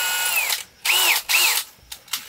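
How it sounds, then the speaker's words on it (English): A power drill bores holes through the planks of a Viking boat under repair, where oakum caulking sits in the seams. It comes as three close, short whirring bursts followed by a couple of brief blips. "drill my holes first, because you'll have a tendency to pull the oakum out with the drill"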